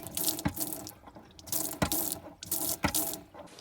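Water runs from the tap in a DIY-converted Renault Master campervan, a steady splashing stream broken by a few sharp clicks and knocks.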